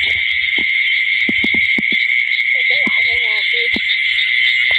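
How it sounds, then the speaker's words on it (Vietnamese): Frogs croak at night in a rice field after long rain: a run of short, sharp calls, then a wavering trill, then one more croak, over a constant loud chorus of insects. "Ếch quá trời các bạn, nó kêu còn xa hả?"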